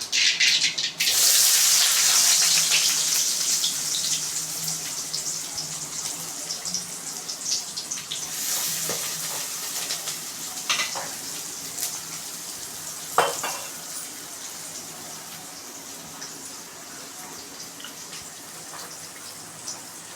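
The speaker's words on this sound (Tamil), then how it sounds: "இப்போது கட் பண்ணி வச்சுருக்க வெங்காயத்தை போட்டுக்கலாம்" Chopped onions drop into hot oil with popped mustard seeds and sauté in a pan for a Tamil tomato kuzhambu, a loud initial sizzle settling into a steady hiss with occasional sharp spatters and stirring clacks, nearby and without talk.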